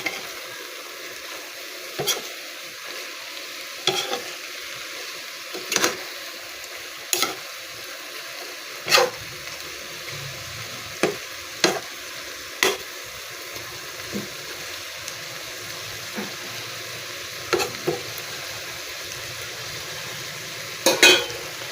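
Bihon and pancit canton noodles with pepper being stirred and fried in a pan, a soft continuous sizzle punctuated by regular sharp clinks of a utensil against the pan, close and steady.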